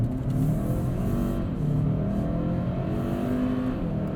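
A Hyundai Santa Cruz 2.5T in sport mode accelerates hard, its engine droning loudly from inside the cabin, with quick firm gear shifts breaking the rising pull into stepped surges.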